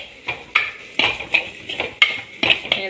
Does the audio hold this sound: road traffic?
no